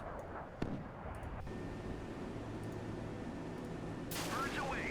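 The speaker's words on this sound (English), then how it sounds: "I'm seeing gunfire going for it." Naval guns in the Sea Power game fire at an incoming missile, giving a sharp report and then a steady dense rumble of gunfire with a whistling sweep near the end, over constant background noise.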